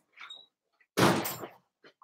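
A door opens with a loud, close sliding rush and clunk in a quiet room so a dog can go out, with brief soft voice sounds before and after.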